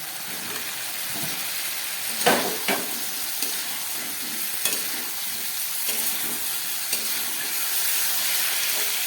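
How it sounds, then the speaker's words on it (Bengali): Potatoes and ground pepper sizzle loudly in a pan over lowered heat, with a continuous frying hiss broken by repeated spoon scrapes and stirring knocks, with no voices. "এবার গ্যাসটা একটু কম করে খুব ভালো করে এটাকে কষাতে হবে।"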